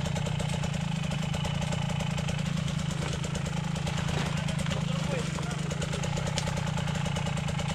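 A Minsk X250 enduro motorcycle idles close by at an orienteering ride, its single-cylinder engine giving a loud, steady, rapid putter, with muffled voices over it.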